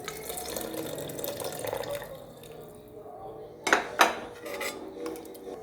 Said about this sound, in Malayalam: ഇനി ഇതിലേക്ക് ഞാൻ കുറച്ച് തേങ്ങാപ്പാൽ ഒഴിച്ച് കൊടുക്കുകയാണ്.